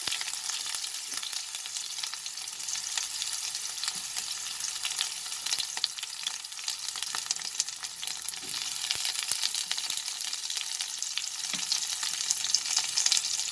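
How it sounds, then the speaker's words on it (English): Onion slices sautéing in oil in a pan with bay leaves and two dried red chilies, a steady bright crackling sizzle with faint stirring scrapes, continuous and fairly close, with no talking. "After adding the onion slices, I will saute it for some time till the onions are slightly cooked."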